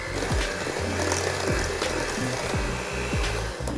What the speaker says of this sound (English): Now mix this well until it's nice and light and fluffy.